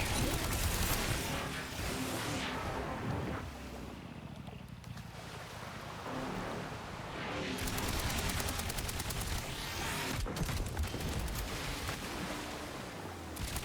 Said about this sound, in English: I don't know what kind of gun that Botnak has, but I saw some explosions coming out of the water there.